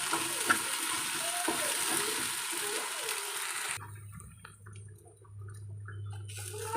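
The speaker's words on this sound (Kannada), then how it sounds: "ಇವಾಗ ಇದನ್ನು ಫ್ರೈ ಮಾಡ್ಕೊಳ್ತೇನೆ ಒಂದು ಹದಿನೈದು ನಿಮಿಷ ಇದೇ ರೀತಿಯಾಗಿ ಫ್ರೈ ಮಾಡ್ಕೊಳ್ತೇನೆ" Mixed vegetables with okra fry in a pan, a steady broad sizzle and crackle that drops to a quieter, sparser hiss midway, with a low hum underneath and no talking.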